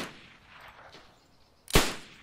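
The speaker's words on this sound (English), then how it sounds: "Yeah, somebody's shooting Mosin." A single sharp Mosin rifle gunshot rings out in DayZ, loud and close, after a stretch of quiet ambient background.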